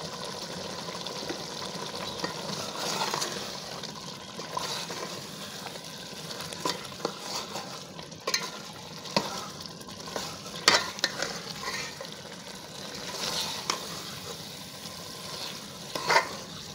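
Chicken and moringa curry sizzles and fries in a pan while a spoon stirs and scrapes intermittently, with occasional sharper clinks against the metal.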